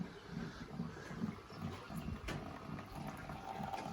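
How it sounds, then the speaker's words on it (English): Rain pours steadily into a water barrel in an allotment garden, giving a continuous close splashing and trickling wash with a faint rhythmic slosh underneath. "Rain filling barrel up."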